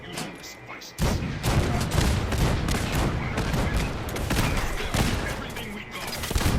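Cannon fire from robots in the Fallout 4 video game, a sustained loud barrage of booming blasts and crackling gunfire that begins abruptly and keeps rolling without pause.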